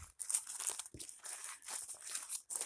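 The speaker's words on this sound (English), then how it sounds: "So I try to crumple it as much" A paper bag being crumpled by hand for paint-texturing crafts gives close, continuous crinkling and crunching with brief pauses, no talk over it.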